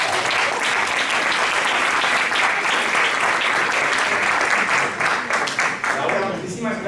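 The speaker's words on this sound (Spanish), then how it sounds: "Un fort aplaudiment per la Laura!" An audience at a magic-themed show gives a volunteer named Laura a loud, sustained round of applause that fills the room evenly before thinning slightly near the end, with voices faintly under it.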